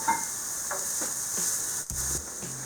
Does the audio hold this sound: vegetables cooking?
yes